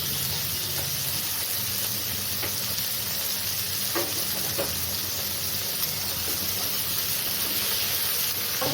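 Chopped potatoes and eggplant fry in a pan with green chillies, giving a steady, close, continuous sizzle and hiss with a few faint stirring clicks and no voices.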